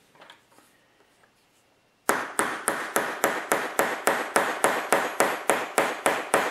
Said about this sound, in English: I can tap it into place